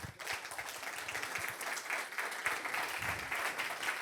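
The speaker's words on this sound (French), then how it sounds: "Merci de l'applaudir." An audience at a business leaders' conference in the Avignon area applauds as a guest joins the stage, a dense steady wash of clapping from many hands filling the room for several seconds.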